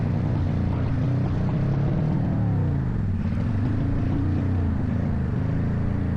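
A car engine drones loud and steady as it labors up a rising road toward a parking lot in Philinvest, Alabang. The low, heavy hum runs the whole time with a slowly shifting pitch, and no voices are heard.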